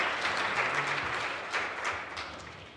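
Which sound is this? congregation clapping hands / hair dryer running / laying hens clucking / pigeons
congregation clapping hands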